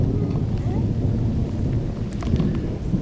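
Thunder rumbles as a dense, loud low-frequency roll that fills the whole moment, steady with slight swells and a hint of rain or wind noise around it.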